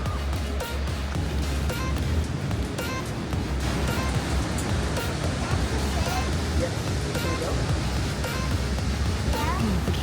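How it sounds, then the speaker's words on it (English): A loud river flows near stairs and a bridge among trees, giving a steady, dense roar of rushing water that runs unbroken throughout, with faint voices now and then. "So I hear the river, it's very loud"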